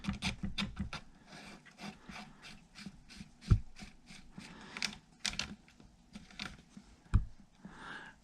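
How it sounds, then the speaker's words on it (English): Small screws are driven into an M1A rifle part by hand, producing quiet irregular clicks, scrapes and light knocks at close range with a few sharper taps. "We're going to screw this in."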